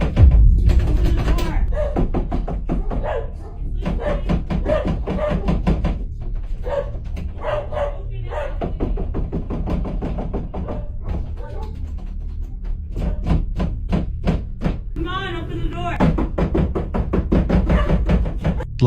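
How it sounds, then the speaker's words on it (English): Loud repeated knocking and banging on a bedroom door, irregular bursts of heavy thumps, close and forceful, with voices heard between the blows. "Loud knocking and banging can be heard on Lucy's bedroom door"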